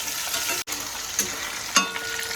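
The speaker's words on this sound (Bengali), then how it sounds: "মুড়োটা আমি 4-5 মিনিট একটু নেড়ে ভালো করে ভেজে নেব।" Fish head frying in a pan, a steady close sizzle broken by a brief pause and a couple of sharp stirring scrapes.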